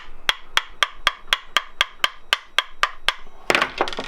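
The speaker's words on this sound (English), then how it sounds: "I'm just going to give it a little tap with a" About thirteen sharp, evenly spaced taps of a screwdriver handle striking a raw water pump part on a boat, close and crisp, closing in a brief scraping clatter.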